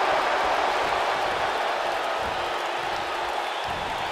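A capacity crowd at a televised tag-team wrestling match roars steadily in a packed arena, a dense continuous wash of cheering near the end of a match, with a commentator talking over it.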